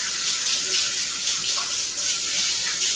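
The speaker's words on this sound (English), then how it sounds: "let me just rinse my hands real quick" Tap water runs steadily as hands are rinsed under a faucet in a kitchen while cooking Mexican street corn, a continuous close splashing hiss with small shifts as the hands move through the stream.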